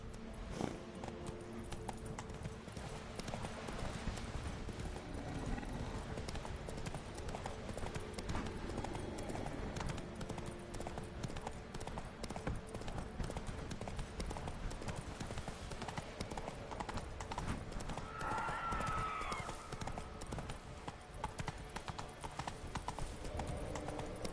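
A horse gallops in The Witcher 3, with rapid hoofbeats drumming continuously at moderate level and a brief whinny-like tone near the end, heard without speech.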